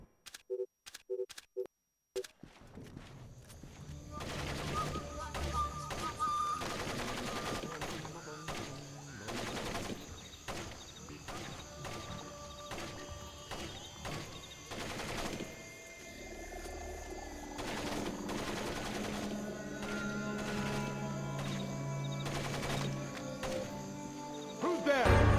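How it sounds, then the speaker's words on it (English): Gunfire in the stealth game Splinter Cell Pandora Tomorrow: repeated sharp shots and bursts spread across a busy, dense game soundscape with ambient rumble and occasional voices, continuing for over twenty seconds. "Somebody's shooting at me!"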